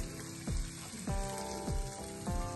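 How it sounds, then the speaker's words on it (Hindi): A prawn curry cooking with coconut milk sizzles steadily in the pan, with four evenly spaced swishing stirs cutting through the continuous close hiss. "इसमें ये कोकोनट मिल्क डाल देंगे।"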